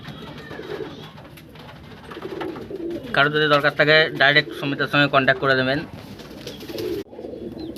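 Pattā pigeons in a home loft coo in a cluster of loud, close bubbling calls partway through, with people talking before and after.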